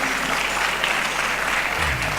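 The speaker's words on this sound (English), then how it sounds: "A round of applause for him" Audience at a session on the entertainment industry applauding a newly introduced university speaker; a steady, dense patter of many hands clapping from start to finish.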